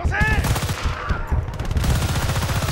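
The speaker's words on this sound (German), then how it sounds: "die ganze Ballerei geht ab jetzt los" Rapid automatic gunfire in the video game Battlefield Bad Company 2, loud bursts of shots in quick rhythmic succession with ringing echoes, close and dense throughout.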